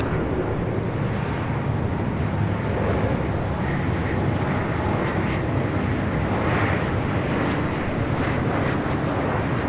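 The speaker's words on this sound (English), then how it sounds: "This is Southwest Airlines 1809 coming in from Phoenix on a MAX 8" A Southwest Airlines Boeing 737 MAX 8 arrives at LAX from Phoenix, its jet engines giving off a steady, loud, broadband roar that fills the whole stretch with no talking.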